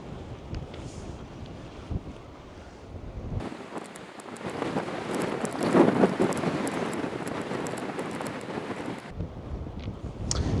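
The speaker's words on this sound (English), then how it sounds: "That wind is relentless." Strong relentless wind buffets a boat during a cod fishing club match at sea, a roaring gusty rush that swells loud through the middle and eases at the edges, with faint water sounds beneath.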